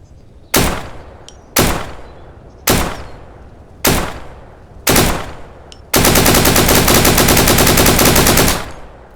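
AK-style rifle fire in the video game Deadside, five loud, evenly spaced single shots followed by a long sustained automatic burst, close and dominant with no voices.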